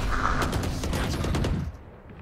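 Gunshots in the video game Valorant: a rapid burst of sharp, loud shots fired in quick succession over a rumbling background, stopping abruptly near the end, no talk.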